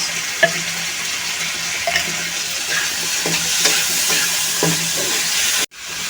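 Spice paste for mustard puti fish fries in a pan with a steady close sizzle, broken by spoon scrapes and taps, then cut off abruptly near the end.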